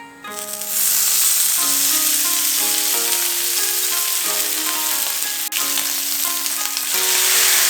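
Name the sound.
Wagyu rib slices sizzling, cooked sukiyaki style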